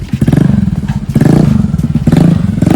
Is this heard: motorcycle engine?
yes